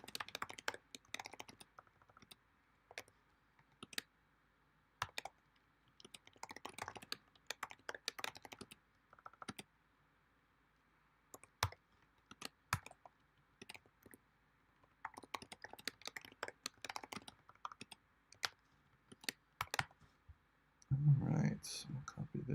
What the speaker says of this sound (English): now I'm just gonna like type out some boilerplate